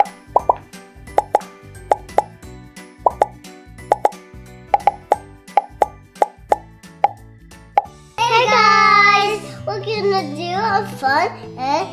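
Raisins dropped into a glass of soda, with repeated sharp plops and bubble pops in an uneven rhythm for several seconds, up close, followed by a voice talking.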